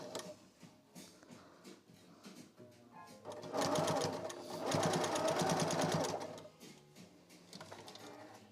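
A home sewing machine stitches a dart on a plushie, a rapid, rhythmic mechanical chatter that speeds up in the middle and then slows, close and clear, with quieter handling noise before and after.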